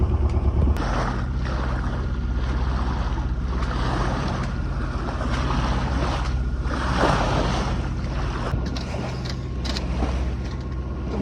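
Waves wash steadily against a solo sailing boat on the open North Sea in a 15-knot beam wind, broadband surf hiss with gusty wind rumble close to the hull, continuous with no voices.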